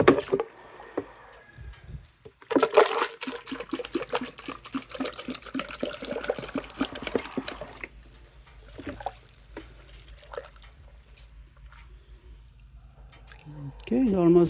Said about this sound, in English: We'll keep filling until we see the water in the radiator that is full water and vinegar.